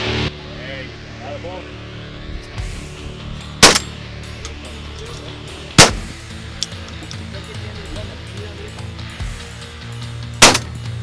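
Shotguns fire at clay targets at an outdoor shooting range in Las Vegas, three sharp, loud blasts spaced a few seconds apart, each with a ringing echo over a low background murmur.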